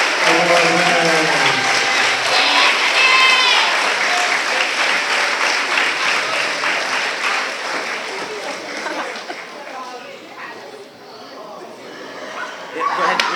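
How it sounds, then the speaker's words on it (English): A crowd applauds art award winners at a school moving-on ceremony with sustained, loud clapping that slowly tapers. High yelps and whines sound through it early on, and voices are heard near the end. "a round of applause for our art award winners"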